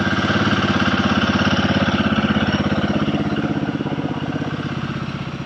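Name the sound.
Royal Enfield Guerrilla 450 motorcycle engine starting and idling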